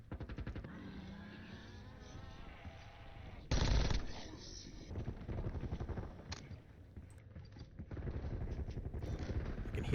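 Compact gun firing in Call of Duty Warzone: rapid, rattling bursts of automatic fire, fairly loud and close, with a heavy burst partway through and further quick volleys among game noise.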